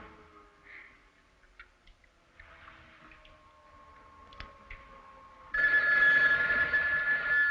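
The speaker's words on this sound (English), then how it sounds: "David, I've got to answer the phone." A telephone bell starts ringing partway through a quiet interior scene in a 1973 horror film, loud and continuous after faint earlier clicks and ticks.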